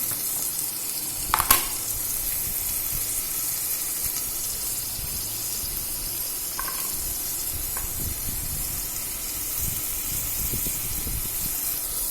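Potatoes and capsicum fry in a pan for a potato and capsicum palaav, a continuous bright sizzle throughout with a couple of faint clinks of utensils.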